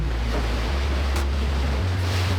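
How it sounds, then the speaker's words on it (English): Ocean waves strike the beam of a sailboat on a rough passage, a loud continuous rush of water and wind with a low steady rumble and no voices. "the waves are 3 seconds again coming from the beam, which is okay, but it is on the rough side"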